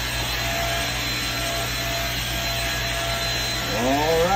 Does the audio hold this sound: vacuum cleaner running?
yes